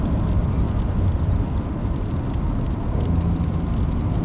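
A 2025 Porsche 911 Carrera S (992.2) drives along with a steady, muffled engine and road drone heard from inside the cabin, smooth and continuous with no sharp shift blips.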